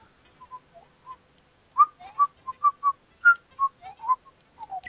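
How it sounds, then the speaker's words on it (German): A person whistles a tune in short melodic phrases during play of Super Mario World, the notes clear and close, with no talking. "Hör auf zu pfeifen."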